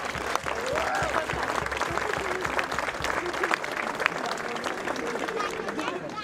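A basketball crowd at a French Cup semi-final bursts into sustained, dense applause that carries on steadily without pause.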